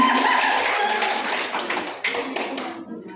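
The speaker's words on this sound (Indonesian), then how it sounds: "Tepuk tangan untuk tim Kebidanan." Audience at a nurse-midwife quiz competition applauding the midwifery team, a burst of clapping that starts full and gradually thins out, with scattered claps trailing off at the end.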